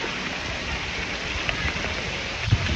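Rain falling in Jeddah, a steady broadband hiss of downpour that stays even throughout, with a faint thud near the end.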